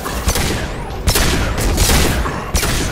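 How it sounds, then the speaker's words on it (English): Krogan shotgun blasts in the Mass Effect video game, several sharp loud booming shots among continuous gunfire and battle noise. "Krogan shotgun."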